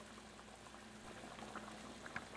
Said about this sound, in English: The Daging Masak Kicap is simmering on high, well, medium high right now